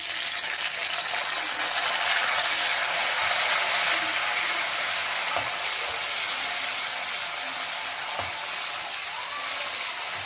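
Oil sizzling steadily in a pan as fried rice is cooked with mint going in, a continuous bright hiss with faint scraping from stirring and no talking.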